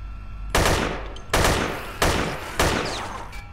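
Gunfire in the video game Dead Effect comes as four loud, evenly spaced bursts, each a sharp crack fading into a decaying roar, with no talk over it.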